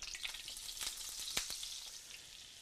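Half a stick of butter melting into hot grease in a pan, a soft, faint sizzle with a few brief crackles.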